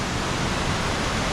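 Creek water rushes steadily over slippery rocks in a high flow, a loud, even broadband roar with no breaks or voices.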